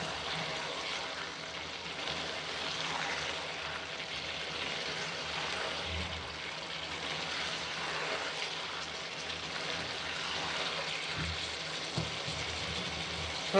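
Aloo gobi with garam masala sizzles steadily in a pan as it is mixed, a continuous close hiss with occasional soft scraping thumps, no one talking.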